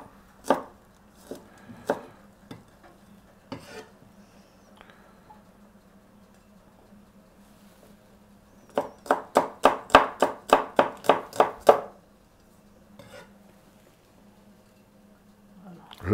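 A knife chops cucumber for a salad on a board, with a few scattered single cuts early on and then a quick, even burst of about a dozen crisp chops, alone and close.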